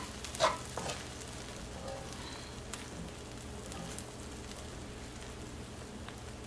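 Chinese fried rice with plantains stirred in a pan, giving a soft, steady sizzle with a brief scrape of the utensil near the start, quiet and without talk.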